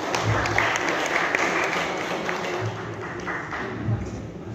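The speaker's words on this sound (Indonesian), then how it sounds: "Mari kita beri tepuk tangan." An audience applauding at a formal government ceremony in Kupang honoring teacher practitioners, a dense, steady wash of clapping with a few louder bursts.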